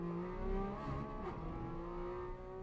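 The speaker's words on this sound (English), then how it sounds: "You can see him really accelerating right there, which is what the 911s are good at." A Porsche 992 911 GT3 RS race car accelerates hard on a track, its engine note rising steadily as it climbs in pitch, loud and continuous with no voices over it.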